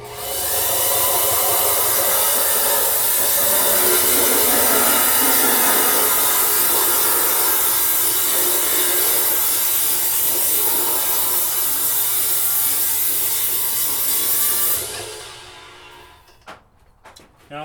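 A cymbal is worked on a lathe, giving a loud, continuous hiss and scraping whir with a metallic ring for about fifteen seconds before it winds down, followed by a few clunks.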